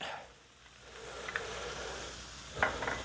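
Tomato puree goes into a pan of simmering sloppy joe mixture, giving a soft steady sizzle with a couple of sharper spits and clinks of a spoon or pan near the end.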